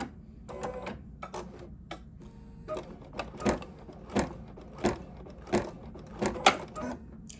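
A machine stitches appliqué details on fabric held in a hoop, giving sparse irregular clicks and sharp knocks with short bursts of mechanical whirring between quiet gaps, fairly close and moderately loud.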